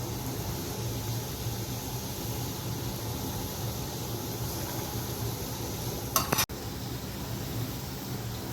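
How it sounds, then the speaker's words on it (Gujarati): Puri frying in hot oil gives a steady, even sizzle throughout, with a brief clatter of a utensil against the pan near the end. "હવે આપણે પૂરી તળી નાખીએ."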